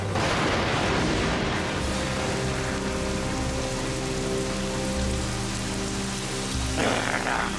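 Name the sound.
rain falling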